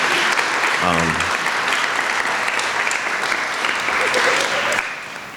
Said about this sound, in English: So let's give a round of applause for all our award winners that we will momentarily award here today.